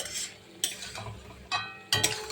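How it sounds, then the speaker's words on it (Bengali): Pre-fried cauliflower tossed with a cumin and chili paste in a pan, a low sizzle under three or four quick scraping stirs of a spatula, close and fairly quiet, no talking. "ফুলকপি দিয়ে ফুলকপির সঙ্গেও মশলাটাকে একটু কষাবো সুন্দর করে।"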